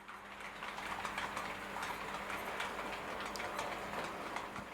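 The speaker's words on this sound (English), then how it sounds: "This really is a lovely locomotive to run." A small Hornby T9 model locomotive runs steadily along its track, a continuous mechanical whir with light rhythmic clicking from the rails, close by and without voices.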